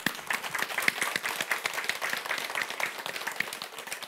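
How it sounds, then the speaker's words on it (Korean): A congregation at a Catholic Bible lecture breaks into steady, sustained applause, many hands clapping densely and evenly at moderate distance, with no voices over it. "주님께 영광의 박수"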